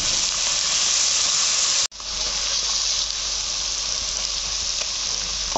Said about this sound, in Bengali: এবার আমি পেঁয়াজ কুচিটা দিয়ে দিলাম। এবার আমি একটু ভাজি নেব।